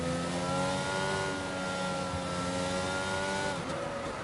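Race car engine in a racing video game at Miami, revving steadily at high pitch through a hot lap with a falling, shifting tone near the end, loud and continuous with no talk.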